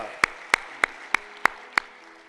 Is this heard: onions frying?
no